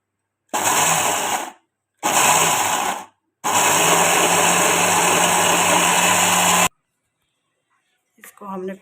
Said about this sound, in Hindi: चलिए तो हम इसको ग्राइंड करते हैं।